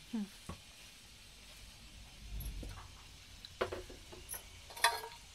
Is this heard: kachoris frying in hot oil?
yes